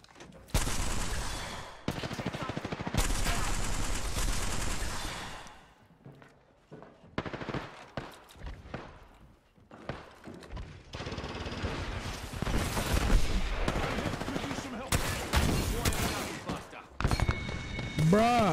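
Gunfire rings out in the Apex Legends battle royale shooter, with dense bursts of rapid automatic shots filling most of the stretch, broken by brief pauses, loud and close, mixed with game effects.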